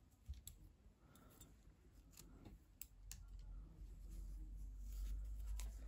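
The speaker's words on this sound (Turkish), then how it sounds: "İpliği kesiyorum." Scissors snip through yarn at the end of a crocheted hat's cord, giving a few faint, sharp clicks over a quiet, steady low background hum.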